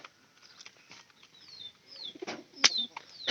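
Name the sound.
pigeons cooing and flapping in loft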